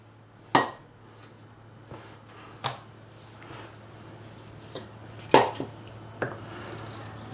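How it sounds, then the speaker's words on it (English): Knife blade striking a cutting board while thinly slicing beef for a Chinese beef and mushroom dish, a few sparse separate knocks spaced across a quiet kitchen with a steady low hum. "we're going to slice our beef nice and thinly"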